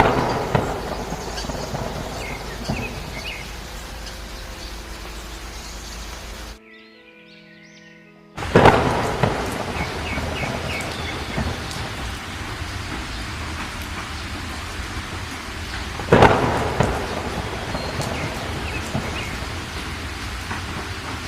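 Torrential rain pours down over a village in a steady dense hiss, broken by a brief quiet gap, with two sharp cracks of thunder standing out above the downpour.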